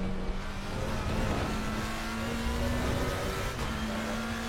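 A race car engine drones loudly and continuously in a racing video game, its pitch holding and slowly rising as the car drives the track, with no talk.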